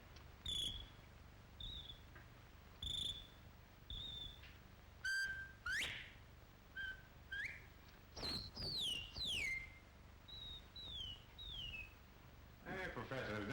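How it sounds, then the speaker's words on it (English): Someone whistles into a bottle in a 1941 western film scene, making a string of short, pitched, warbling whistle notes with gaps between them over a faint, hissy old soundtrack. "You take this bottle and you whistle in it"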